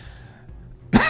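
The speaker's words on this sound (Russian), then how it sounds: "Да что, кашель какой-то." A man gives a single short, harsh cough close up after a brief quiet pause, rough and throaty like clearing a sore throat.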